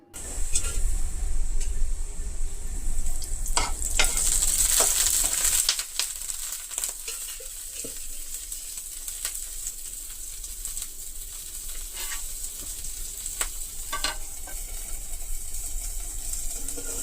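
Ginger fries in a spoonful of oil for chutney, giving a bright steady sizzle that is louder at first and then settles to a softer, continuous crackle with occasional stirring scrapes.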